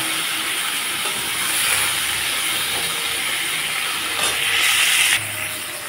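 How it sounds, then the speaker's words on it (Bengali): Cauliflower and potato pieces fry with salt and turmeric in oil left over from frying fish, giving a loud, steady, close hiss of sizzling that swells briefly toward the end and then settles. "এখনও সামান্য লবণ আর হলুদ গুঁড়া দিয়ে আমি ভেজে নিচ্ছি"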